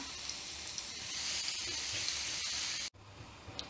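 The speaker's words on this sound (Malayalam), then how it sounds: "ഇപ്പോൾ നമ്മളെ ഗാർലിക് ഇവിടെ ഒരുവിധം മൂത്ത് വന്ന് തുടങ്ങിയിട്ടുണ്ട്" Garlic sizzling in a mix of olive oil and butter in a pan, a steady close crackle that stops abruptly near the end before a softer hiss resumes.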